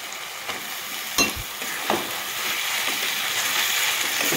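Fried potatoes sizzle in a spice paste for a Bengali katla fish curry. A loud, steady frying hiss runs throughout, broken by a few clanks of stirring.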